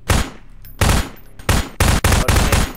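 Gunfire in the Garry's Mod video game: loud, close bursts of rapid automatic shots in several separate volleys, with short gaps between them and the bursts coming faster toward the end.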